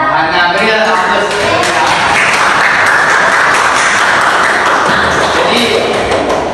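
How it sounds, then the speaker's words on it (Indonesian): Applause from a classroom group, a steady wash of clapping hands, lasting several seconds at even loudness, with some voices mixed in. "Berilah aplaus."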